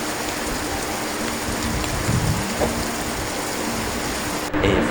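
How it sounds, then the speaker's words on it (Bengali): Monsoon downpour drums steadily on surfaces nearby, a thick continuous hiss with a brief louder splash near the end and no one speaking. "অনেক বৃষ্টি হচ্ছে।"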